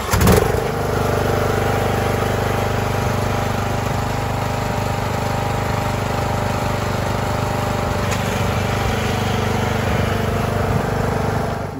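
A Craftsman riding lawn mower engine cranks and catches, then settles into a loud, steady running drone close by, holding a constant pitch for the rest of the stretch with no voices.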